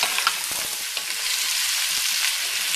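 Butternut squash sizzles in a hot pot, with a steady hiss of frying and a few soft clatters of stirring near the start, and no voices.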